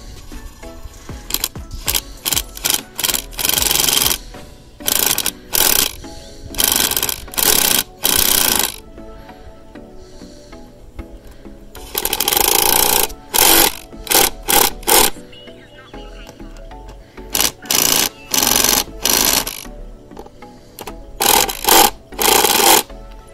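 Power driver tightening clamps on an old, broken septic pipe: repeated short bursts of whirring and ratcheting, each a second or so long with gaps between, loud and close, with brief voice in places.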